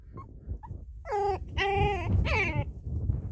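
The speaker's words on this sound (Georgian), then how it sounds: "ეს შემდეგი ლეკვიცა. ცოტა ბრაზიანია." An angry puppy lets out three whiny, high-pitched yelps and whimpers in quick succession, close and fairly loud, with low rustling between calls.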